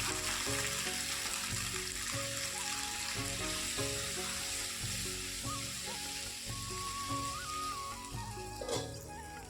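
Okra frying in a pan with salt and turmeric, a continuous bubbling sizzle of hot oil heard close and steady under faint background music, with a short clatter near the end.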